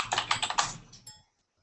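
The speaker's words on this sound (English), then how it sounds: "you were hearing your keyboard, Kim" Rapid, close computer keyboard typing, a short burst of about eight distinct keystrokes that trail off into silence.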